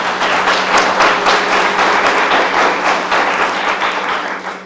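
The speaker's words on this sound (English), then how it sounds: "so let's give them a round of applause" Audience applause for competition finalists at a championship round, a steady dense wash of many hands clapping close by for several seconds without a break.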